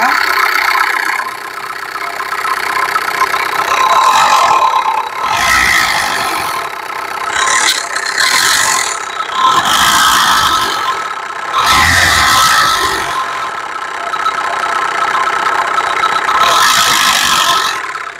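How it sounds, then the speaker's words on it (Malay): A car engine fitted with a new turbo that sometimes sticks runs with a loud, rough, diesel-like clatter, swelling and easing in repeated revs across the whole stretch. "Dengar engine dia."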